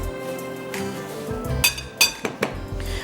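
A measuring spoon clinks against a container while baking powder is added, a few sharp metallic taps standing out over a quiet background.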